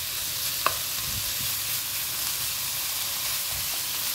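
Thai-style pork belly fries in its own rendered fat with no added oil, browning on both sides, producing a dense, even sizzle close up, with one brief utensil tap near the start.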